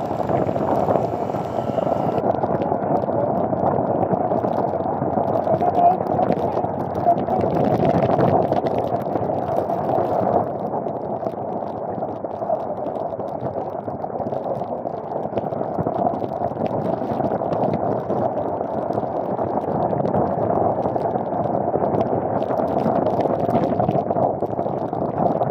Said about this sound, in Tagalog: Ito ang malakas na hangin, nagbabounce siya, pati ang motor nadadala talaga.